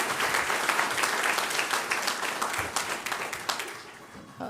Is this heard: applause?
yes